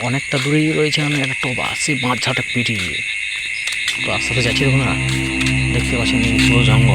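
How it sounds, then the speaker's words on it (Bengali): Crickets chirp steadily in a jungle at night, a high continuous trill running throughout beneath someone talking close by. "সে ঝিঝি পোকার ডাক"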